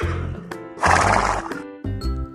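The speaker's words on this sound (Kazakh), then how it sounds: "Жылқы." A horse whinnies loudly and close up in one long, wavering neigh that lasts about a second, set between shorter tonal sounds.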